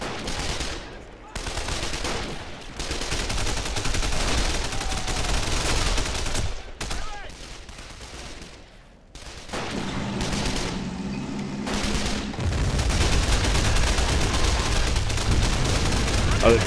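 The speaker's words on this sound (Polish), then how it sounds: "Ale wybuchy są bardzo ładnie zrobione" Dense bursts of gunfire and booming explosions from the Men of War battle game, rapid machine-gun rattles and heavy blasts in loud clusters separated by brief lulls, with some talking underneath.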